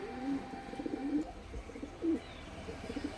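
High Flying Madras pigeons cooing softly, a few low, rounded coos repeating at irregular intervals over faint background noise.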